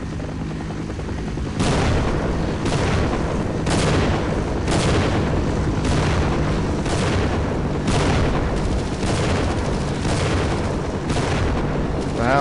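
A big cannon in the Half-Life video game, firing repeated loud booming shots roughly once a second over continuous dense game noise.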